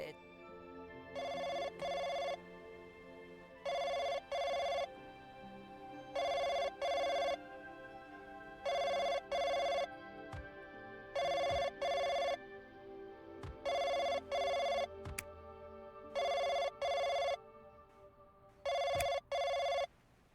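A telephone in a video game rings in repeated double bursts, about eight evenly spaced electronic bell rings over a low ambient background, with no one speaking.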